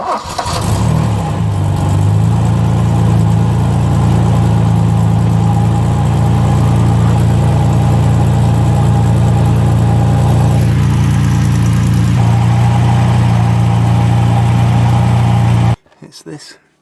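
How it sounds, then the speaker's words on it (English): A Ford Capri engine with an oil leak runs steadily at idle with a deep, constant hum, close and loud, before cutting off abruptly near the end. "start the engine up and see where it's coming from exactly"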